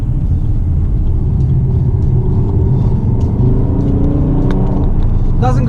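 A Volvo V40 compact hatchback engine accelerates with a loud, steady rumble and a rising tone, the road and cabin noise constant throughout and no pause in the drone.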